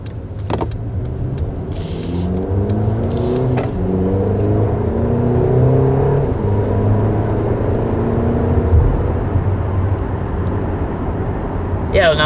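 Inside a 2021 Mercedes GLB 250 on the move, a steady low road and engine hum fills the cabin, with a few clicks near the start and a brief sharper sound at the close.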